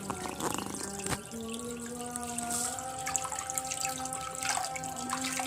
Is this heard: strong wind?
no